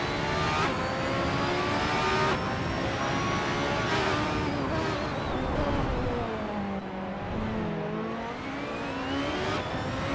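Race cars in a racing video game rev steadily as they jostle and overtake, several engines layered into a continuous loud roar with rising and falling pitch sweeps, no talking.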